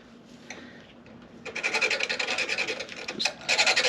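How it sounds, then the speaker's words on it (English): A small hand file rasps the hard edge off a motorcycle part, rubbing out a quick series of close, bright metal-on-metal strokes after a quieter opening. "rasp the hard edge off of it."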